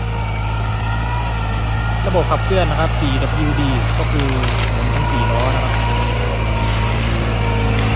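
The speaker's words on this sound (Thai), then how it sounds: "เป็นรถแท็กเตอร์รุ่น คูบูต้านะครับ L4508 ครับผม" A Kubota L4508 tractor, a 45-horsepower, water-cooled four-cylinder 4WD model, idles with a loud, steady low hum close by while someone speaks over it.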